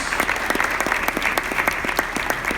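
Brisk, even applause from an audience at a regional business case competition greets a presenting student team. The clapping is thick and continuous, loud and close, with no talk over it.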